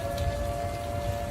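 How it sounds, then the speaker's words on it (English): Heavy rain falls steadily near a bridge, a dense constant hiss, while a long wailing siren holds a steady tone in the background throughout. "as you listen to that and all that rain, and you hear the sirens in the background"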